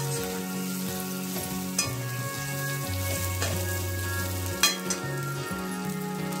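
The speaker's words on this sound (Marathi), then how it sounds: "परतून घ्यायचं थोडं वेळ" Stuffed brinjal (vangi) masala sautéing in a kadhai gives a steady, close sizzle, broken by a few sharp spoon-scraping clicks; no one speaks.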